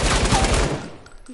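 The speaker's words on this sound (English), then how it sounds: "He's still shooting." Rapid automatic gunfire in Fortnite, a loud dense burst of game shots that fades out after about a second.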